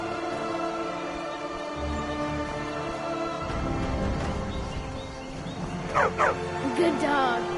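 A dog in the Skyrim video game whimpers and yips, with short rising cries and barks near the end, set against steady droning game music and a brief spoken voice.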